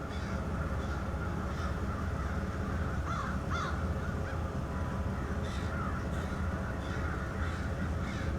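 Several crows caw outdoors at moderate distance near a rail yard in Waterloo, Iowa, harsh calls scattered across a loud, steady rumble of background noise.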